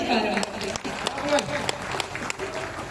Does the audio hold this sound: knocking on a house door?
no